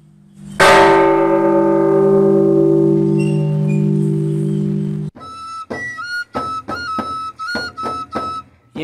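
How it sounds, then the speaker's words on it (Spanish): Church bells ringing in Esquipulas: one loud, deep bell strike rings out and hums for several seconds, then a quicker sequence of higher, brighter bell tones follows in an uneven pattern. "En Esquipula sonaron las campanas."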